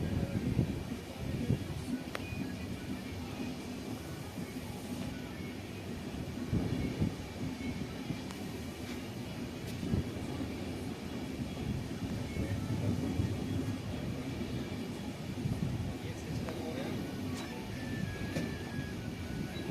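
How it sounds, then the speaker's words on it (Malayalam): A train runs fast at night with a continuous rumbling clatter of wheels on rails and occasional faint squeals, steady and fairly distant in tone. "ട്രെയിൻ പിന്നെ നല്ല സ്പീഡിലാണ്, ഭയങ്കര സ്പീഡിലാണ് രാത്രിക്ക് പോകുന്നത്."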